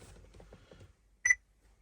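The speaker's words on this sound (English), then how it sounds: "Got a beep." A JOYING Android head unit fitted in a 2000 Mercedes ML320 gives a single short, clear electronic beep after a moment of low talk.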